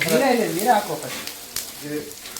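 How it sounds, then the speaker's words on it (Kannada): Coriander seeds sizzling in hot oil in a home kitchen, a soft crackling fry heard beneath a person speaking throughout. "ಎಣ್ಣೆ ಹಾಕಿದ್ಮೇಲೆ ಧನಿಯಾ ಹಾಕ್ಬೇಕು. ಅದು ಕುದು ಅಂತ ಕುದಬೇಕು."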